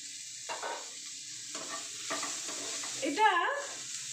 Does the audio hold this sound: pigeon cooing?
no